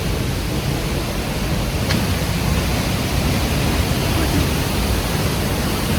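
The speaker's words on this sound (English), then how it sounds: "Look at the waterfall." A waterfall in Costa Rica, heard up close as a steady, loud broadband roar of rushing water that holds constant throughout, with no speech over it.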